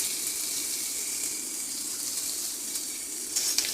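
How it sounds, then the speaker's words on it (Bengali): Chopped onions fry in a pan for a potato curry, giving a soft, continuous hiss that stays level with a brief louder crackle near the end. "এবার আমি এখানে পেঁয়াজ কুচি দিয়ে দিলাম, একটু সামান্য নেড়ে নেব।"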